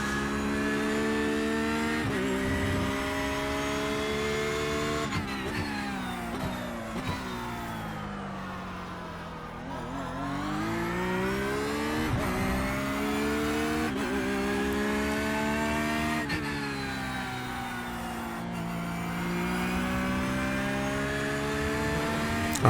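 A Porsche 911 GT3 R race car in the iRacing simulator laps Snetterton, its engine loud and close, climbing through repeated rising revs, dipping on downshifts and braking, then winding up again.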